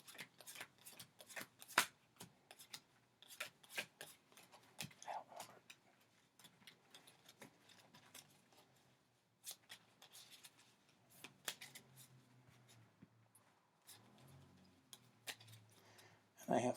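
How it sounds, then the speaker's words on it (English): Playing cards shuffled by hand during a solo tabletop game of Valley of the Kings: Afterlife, heard as fairly quiet, repeated riffling and snapping bursts spread across the stretch with a little background handling. "As I have to shuffle."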